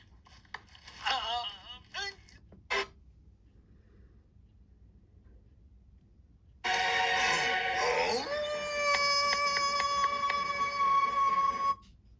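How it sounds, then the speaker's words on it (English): Short spoken phrases come first, followed by silence, then a long, loud, wavering howl, a sound effect in an animated audio story. It starts low and rises before holding a steady pitch, sounding alone for about five seconds before it cuts off. "Then the howl continued again."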